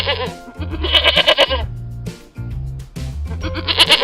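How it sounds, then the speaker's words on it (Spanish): A goat bleats loudly and close in several wavering cries with brief breaks between them, heard alone without talking. "¡La cabra!"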